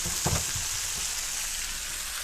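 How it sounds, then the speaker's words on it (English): Salmon fillet searing in a hot pan gives a steady, bright sizzle with a few soft clunks near the start as the fish is flipped. "And so we'll flip our fish. A nice sear on there."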